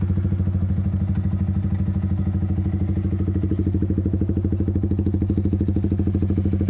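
Yamaha R15 V3 motorcycle with a Proliner full-system exhaust idling close by, a loud, steady, rapid pulsing engine thrum with an even low beat that holds throughout, no talk.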